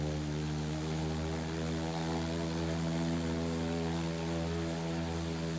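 Engine of a Diamond DA40-XLS light aircraft in MSFS 2024, a steady, loud, continuous propeller drone with a low hum and a constant rumble and no pauses.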